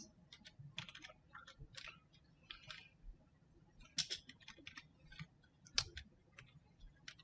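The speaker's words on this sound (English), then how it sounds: "Typing one-handed is not my strong suit" Fingers type one-handed on a computer keyboard in quick irregular bursts of clicks, with some louder single key strikes over a low background hum; the sound is faint and close, with no talking.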